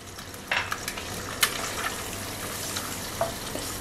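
Egg is scrambled and stirred in a frying pan, a low steady sizzle marked by several sharp scrapes and taps of a utensil on the pan, fairly quiet and close, with no talking.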